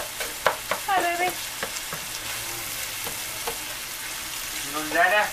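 Onions frying in a pan for a squash cake recipe, a steady broadband sizzle running throughout at moderate level, with brief clinks and a few short voiced sounds over it.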